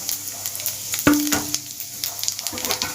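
Whole cloves, a piece of mace and fennel seeds fry in hot oil in a pan, giving a steady close sizzle with a sharp clatter of stirring around the middle.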